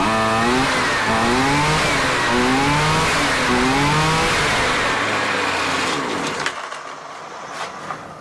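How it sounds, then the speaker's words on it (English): Husqvarna weed eater, a small two-stroke engine under repair, revving loudly with rising and falling pitch in repeated bursts, then dropping back to a rough, quieter idle near the end; no talking. "The point is, one, it idles. Two, it revs up more or less fine."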